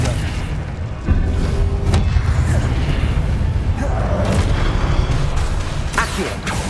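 A Confringo blasting spell explodes in Hogwarts Legacy, a sudden booming burst about a second in, followed by a sustained rumbling, crackling aftermath with further thumps under busy game ambience.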